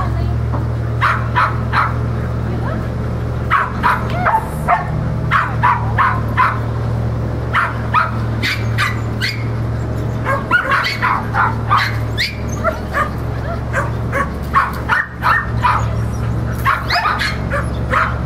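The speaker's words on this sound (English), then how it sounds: "there are other dogs in the enclosures around here" Several dogs in nearby kennel enclosures bark and yip repeatedly in overlapping bursts, loud and close, with occasional whimpers over a constant low hum.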